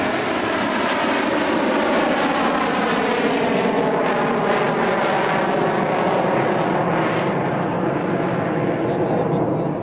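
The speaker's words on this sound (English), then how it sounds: "White Knight makes its trademark pass overhead." The White Knight carrier aircraft roars overhead in a low flyby above the Mojave desert, a loud, continuous engine drone with a sweeping Doppler shift as it passes close by.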